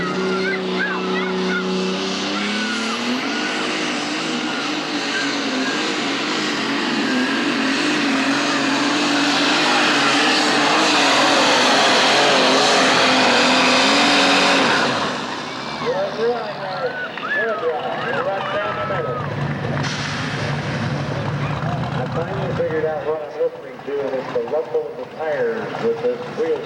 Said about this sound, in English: It's the rumble of the tires that you hear.